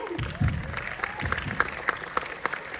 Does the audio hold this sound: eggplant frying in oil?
no